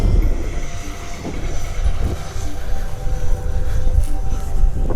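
An RC F-16 scale model jet roars steadily at moderate distance, its engine noise rising and falling slightly as it flies low for touch-and-go landings.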